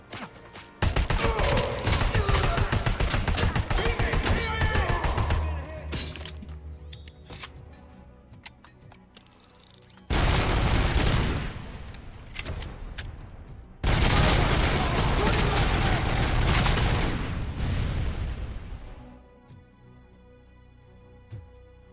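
Automatic gunfire aimed at the player in the video game RoboCop: Rogue City, long loud rattling bursts broken by quieter gaps, a clattering volley, then a final burst that cuts off into near silence.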